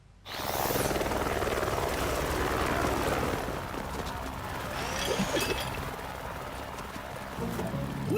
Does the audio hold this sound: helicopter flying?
yes